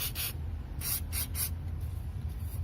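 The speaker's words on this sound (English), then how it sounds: "Alright, and then spray it again," Lubricant is sprayed onto a car shifter cable in several short, close hissing bursts, a pair of quick sprays followed by three more, over a low steady background hum.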